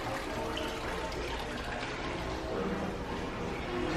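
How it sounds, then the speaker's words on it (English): A fountain at a Disney resort splashes in a steady, even wash of falling water that continues throughout, with faint voices in the background. "I mean, love the fountain."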